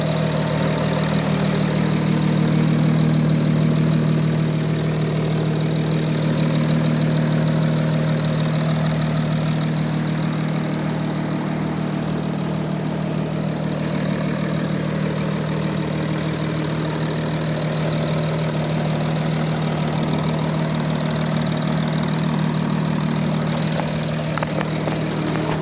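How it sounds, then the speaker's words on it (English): A 2014 Audi A7 TDI diesel engine idles steadily and evenly for the whole stretch, a low constant rumble with a faint rattly knock and no voices. "Sounds the way it's supposed to sound. No funny stuff, no weird noises"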